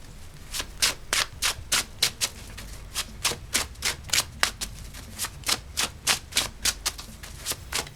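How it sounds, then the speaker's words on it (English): Tarot cards are shuffled in a steady run of crisp, riffling bursts, roughly two per second, close and fairly loud with no talking. "Okay, let's get some tarot cards."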